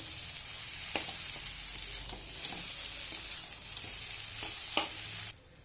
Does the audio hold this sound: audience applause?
no